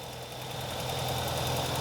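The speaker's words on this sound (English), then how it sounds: "you can see how smooth it's running. Of course, it has the high idle when it's cold" A cold Ural Gear Up sidecar motorcycle engine runs at a high idle, a steady, smooth mid-pitched drone with an even throbbing pulse, close and continuous with no voices.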